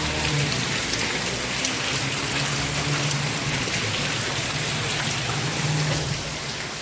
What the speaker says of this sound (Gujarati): ધોધમાર વરસાદ ચાલુ છે